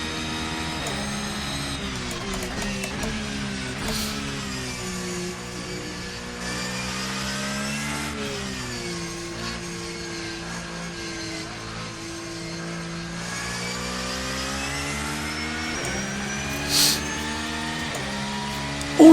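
Darche 992 GT3 R 2023 race car engine in Assetto Corsa, a steady, loud mid-pitched engine drone that rises and falls in pitch through gear changes as it accelerates and brakes around the track.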